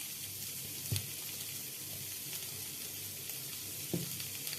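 Chilli chicken simmers in a pan with tomato and chilli sauce, the sizzle steady and fairly quiet, while two distinct scrapes of a spoon or spatula stir it, close and with no voices.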